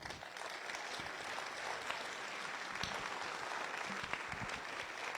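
Sustained applause from an audience at a municipal New Year's greetings ceremony in Autun, a dense even clatter of many hands that holds steady throughout without talk.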